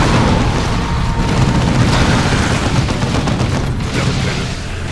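Gunfire and explosions from the Dawn of War 2 strategy game, a dense continuous barrage of booms and shots filling the whole stretch, loud and steady with no pauses.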